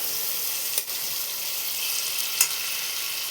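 Spices and slit green chilies sizzle in a pan of fish curry. A continuous bright hiss holds steady, with two brief crackling pops.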